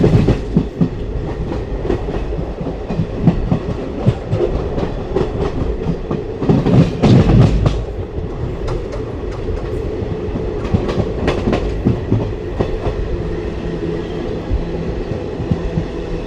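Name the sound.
passenger train running past a station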